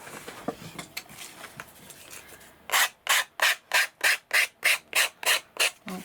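A nail file rubs along the edge of a craft card in a series of about a dozen quick, rhythmic, close strokes, preceded by softer scattered handling rustles.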